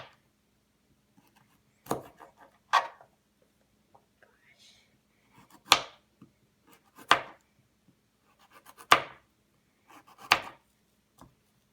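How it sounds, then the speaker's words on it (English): A knife chops carrots on a board in sparse, sharp single strikes spaced a second or two apart, fairly close, with quiet whispering between the cuts. "So let's start cutting the carrots."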